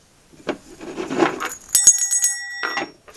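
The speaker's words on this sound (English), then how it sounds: "A set of bells." Small bells are handled and jingle, with a few bright, ringing strikes that hang briefly, mixed with rubbing and clinking, close by and otherwise quiet.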